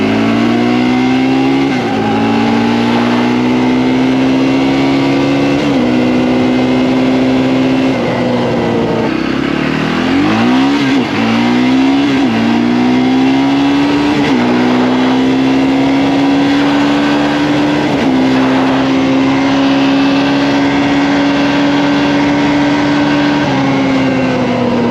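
A Polaris Predator 500 ATV engine revs loudly up close, climbing through a series of gear shifts with brief dips between them. The engine stays strong and steady throughout, with one throttle lift midway.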